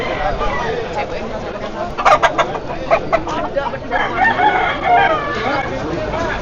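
A rooster crows among a dense, noisy crowd at a cockfight in Bali, Indonesia, with people talking and shouting throughout.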